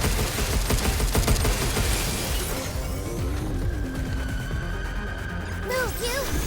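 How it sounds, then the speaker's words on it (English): Charge pistol firing in the video game Pragmata, a loud rapid fusillade of energy shots over dense combat noise, fading into electronic whirs and tones. "that's the charge pistol I was shooting"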